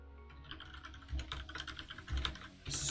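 Rapid typing on a computer keyboard, close and continuous, with irregular key clicks and a few heavier thumps, no voices.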